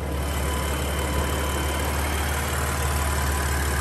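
A car engine idles in a steady, loud, unbroken drone, close up and alone, with no voices.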